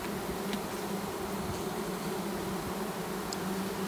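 A clustered swarm of bees drones with a steady, dense buzz, a continuous low hum close by with faint individual wingbeats flickering above it, no talking.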